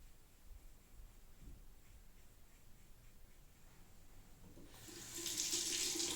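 Safety razor rinsed under a running tap, starting with faint quiet handling and then a louder steady stream of faucet water splashing into a sink near the end.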